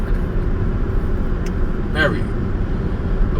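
2008 Jaguar XJ8, rebuilt title, running while driving: a steady low engine and road rumble under a brief spoken word, with a faint squeak partway through.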